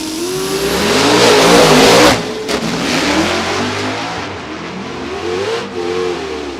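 A Hemi-powered drag race car roars down the strip, its loud engine note climbing hard, dipping briefly as the throttle lifts, then surging again, with no talk.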